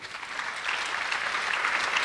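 Parents at a high school freshman parent meeting in Illinois give a steady round of applause, a dense, even patter of many hands clapping for two seconds.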